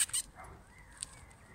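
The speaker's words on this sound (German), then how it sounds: "Jetzt bellt es hinter uns." A dog barks from behind, a few short sharp yips at the start and again around one second, moderately distant over quiet outdoor ambience, with a wolfdog and a strange cat nearby.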